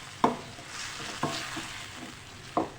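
Okra stirred into masala in a hot pan, a soft continuous sizzle broken by three distinct scraping knocks of a spoon against the pan, close by and without speech.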